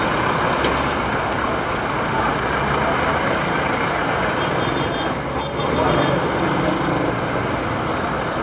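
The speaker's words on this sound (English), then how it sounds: "That's the traffic over there." Traffic on a main highway in the Gambia forms a steady, moderately distant rumble of engines and passing vehicles, with a few louder swells as vehicles go by.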